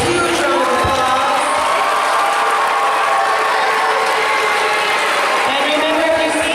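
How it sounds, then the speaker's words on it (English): Audience applause and cheering for graduating seniors at a school event, a steady wash of clapping with crowd noise and voices mixed in, and a raised voice rising above it briefly. "one more huge round of applause"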